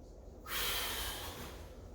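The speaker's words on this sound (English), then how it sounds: "Making sure we're breathing." Sharp breath during an overhead exercise in a home workout, a sudden forceful exhale through the nose that starts abruptly and fades over about a second and a half.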